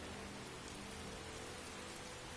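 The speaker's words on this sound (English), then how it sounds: "Alright, also, it is now raining." Steady rain falls in the video game Skyrim, a dense, even hiss of drops with no break, loud and close throughout, with no voices.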